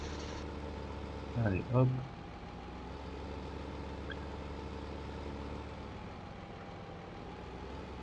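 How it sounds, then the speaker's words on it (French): A virtual Ursus tractor engine in Farming Simulator 15 drones steadily at idle for the whole stretch, a low, even hum, with someone briefly speaking near the start. "c'est celui de le bruit du Ursus. Il a un bruit magnifique ce tracteur."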